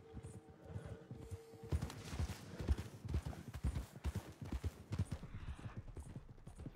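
Horse hooves clip-clopping in a steady, rhythmic gait while being ridden, close and clear, with a brief quiet stretch before the hoofbeats start.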